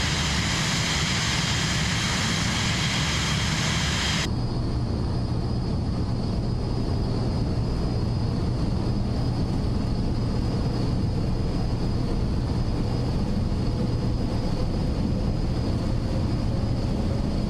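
Continuous loud airliner engine roar during a takeoff roll in Microsoft Flight Simulator 2024, a steady broadband rumble that shifts in tone partway through.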